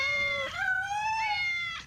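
Cats meow loudly and close by, one long drawn-out wailing call sliding in pitch and then a second rising meow, nearly two seconds of continuous yowling with no talk.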